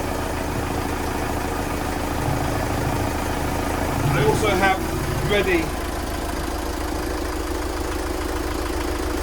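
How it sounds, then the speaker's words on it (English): A boat engine idles steadily while seawater feeds through its cooling loop during a flush, a constant mid-low drone with a brief rise in the middle and a person talking over it. "Now at the moment the engine is running, seawater is feeding through"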